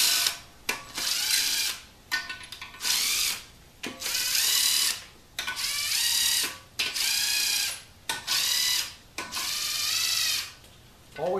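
Ratchet with a Torx Plus socket turning bolts on a 4L60-E automatic transmission during a rebuild, heard as repeated bursts of rapid clicking separated by short pauses, fairly close and steady.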